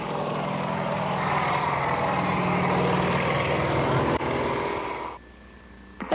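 A Mi-34 helicopter flying aerobatics, including a hammerhead stall turn, at a 1990 air show, as a loud, steady rotor and engine roar that fills the scene and then drops away sharply near the end.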